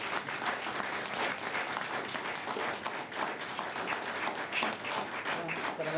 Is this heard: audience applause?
yes